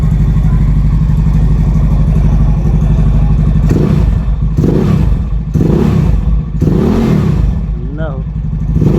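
Easy Ride 150 motorcycle on a night test drive, engine running loud and steady, then revving up and down in several rising and falling surges.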